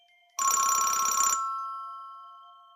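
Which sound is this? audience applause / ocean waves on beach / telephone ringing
telephone ringing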